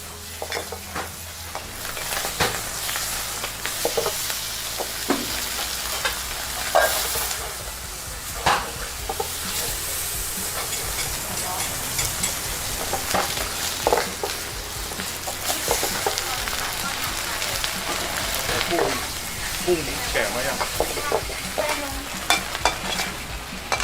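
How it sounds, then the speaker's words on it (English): Pho noodles with vegetables are stir-fried over high heat at a Harbin street stall, giving a steady loud sizzle with repeated scraping and clanking of the spatula against the wok, set against busy street noise. "The pho noodles are quickly stir-fried over high heat"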